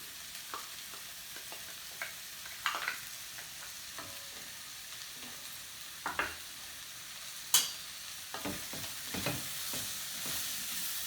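Four garlic cloves frying in spicy oil for a vegan curry, a quiet low sizzle broken by scattered spoon taps and scrapes against the pan.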